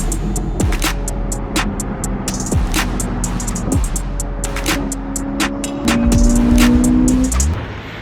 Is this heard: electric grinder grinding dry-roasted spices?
no